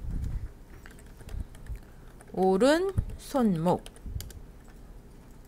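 Keystrokes on a computer keyboard while working in After Effects character rigging, light clicks scattered across the clip and partly under a woman's speech.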